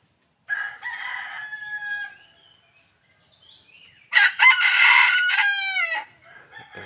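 A rooster crows twice, close and loud, the second crow stronger and longer, with a short quiet gap between them.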